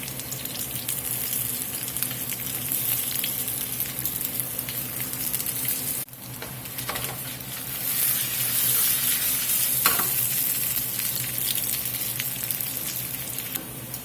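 Potatoes sizzle steadily in a hot frying pan while being stirred, with scraping and clattering bursts over the continuous frying hiss; no talking.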